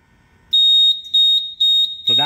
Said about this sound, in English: So that's how you get lubrication failed alarm.